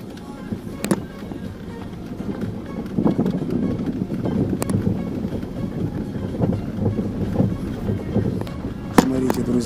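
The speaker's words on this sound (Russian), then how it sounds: "Ветер тут такой." Steady wind buffeting the microphone with low rumbling gusts, occasional sharp knocks, and faint voices underneath.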